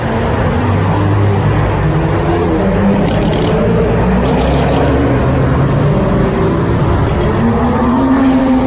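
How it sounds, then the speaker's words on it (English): A Koenigsegg sports car drives by, its engine a loud, rough continuous roar that shifts in pitch as it passes, heard close with no talking. "Oh, it's a Koenigsegg!"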